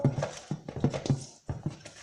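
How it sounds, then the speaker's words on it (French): A dog at a window, with short repeated panting or whimpering bursts in an uneven rhythm, close and fairly loud, in a home kitchen while cookies are being made. "Oh, il y a mon chien."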